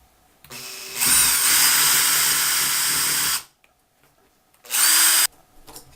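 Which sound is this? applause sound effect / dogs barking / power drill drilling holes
power drill drilling holes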